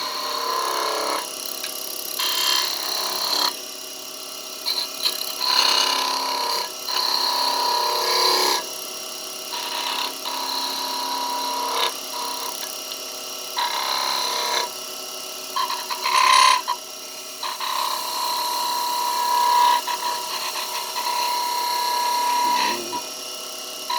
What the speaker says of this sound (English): We'll cut the underside of the hat. We'll make the V to give me space to roll into.